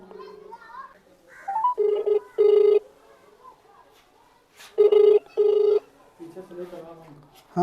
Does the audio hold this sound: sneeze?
no